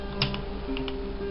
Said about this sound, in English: The clicking sound is actually coming from the speaker.